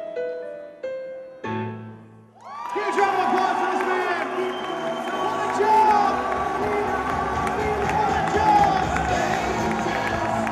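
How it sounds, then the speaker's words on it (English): An audience at a college bowl week event bursts into applause and cheering after a short musical sting, with sustained clapping and whoops filling the room. "Big round of applause."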